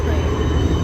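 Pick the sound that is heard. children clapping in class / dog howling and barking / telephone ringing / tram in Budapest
tram in Budapest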